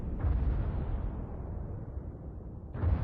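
A battleship's main guns fire a volley in World of Warships, a heavy, sustained rumbling boom close by that rolls on and swells again at the end, with no voices over it.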